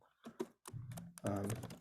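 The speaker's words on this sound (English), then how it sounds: "I can click on any message and start typing." Typing on a computer keyboard: quiet, irregular clusters of key clicks and taps with brief pauses between bursts, close by, with no talking.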